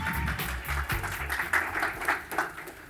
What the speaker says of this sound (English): please can we give a warm round of applause